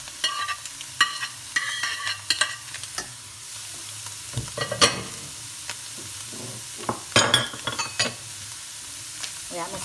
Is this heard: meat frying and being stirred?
yes